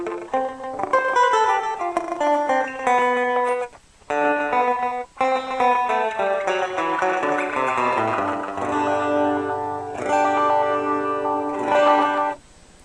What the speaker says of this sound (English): this is a sort of more traditional multi-tap at D3. It's called Stepping Stones.